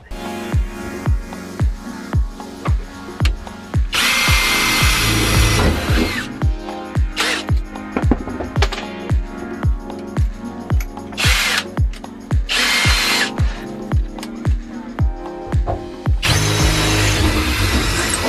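A jigsaw runs in repeated loud bursts, buzzing through a van's sheet-metal panel to cut a porthole window hole, with short pauses and clanks between cuts.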